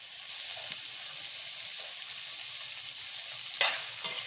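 Chopped beans, carrot and green chilies stir-fry in a pan with a continuous soft sizzle, and a couple of sharper spatula scrapes come near the end, with no one speaking.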